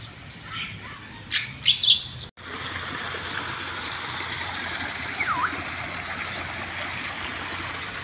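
Brief bird chirps early on over a steady rush of running water, then the water continues alone.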